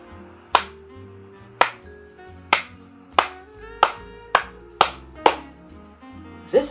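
Single sharp hand claps, about ten in all, land one by one at a slow, fairly regular pace, each crisp and close with a short ringing tail over a faint low background.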